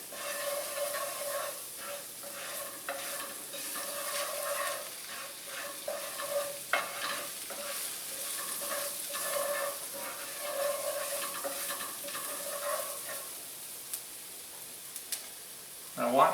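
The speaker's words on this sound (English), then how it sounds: "Got some sizzling going on." Prosciutto-wrapped shrimp frying in a pan, a soft continuous sizzle and hiss with occasional stirring scrapes and pops, fairly quiet and steady throughout.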